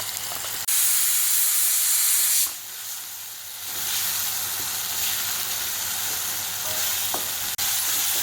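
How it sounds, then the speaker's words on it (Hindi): Green masala paste and spices fry in a pot for chicken khichda, a loud, hissing sizzle that dips briefly partway through and then carries on, with a few light utensil clicks and no voices. "अब ये हरा वाला मसाला भी अच्छी तरह से तल चुका है।"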